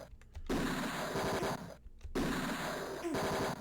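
Gunfire in the old detective adventure game Tex Murphy: Mean Streets, two long bursts of rapid rattling shots separated by a brief pause, loud and close, with no one speaking.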